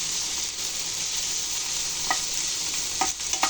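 Ingredients for a Spanish omelette sizzle steadily as they fry in a pan, with a few scraping stirs of a utensil breaking through the constant hiss; no voices.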